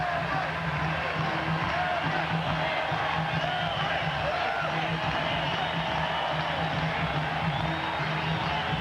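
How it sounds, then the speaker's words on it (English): Baseball crowd at Oakland at Boston standing and cheering for Everett, a sustained roar of applause and whoops filling the ballpark, with a commentator's voice beneath. "They're still on their feet cheering for Everett."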